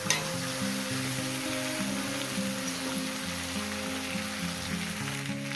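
Ridge gourd and potato pieces fry in a pan with turmeric, giving a steady, close sizzle with crackling spatter throughout and no talking.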